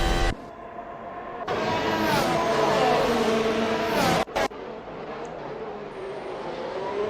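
Formula 1 cars, including a Ferrari chasing a Red Bull, racing at the Canadian Grand Prix in Assetto Corsa, engines screaming loudly with rising pitch as they pass close, then an abrupt cut and a quieter lingering whine.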